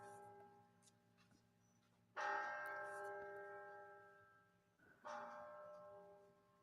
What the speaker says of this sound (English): Are they ringing the Liberty Bell?